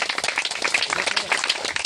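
A congregation claps loudly together, a dense ragged run of many hands close by with voices mixed faintly underneath.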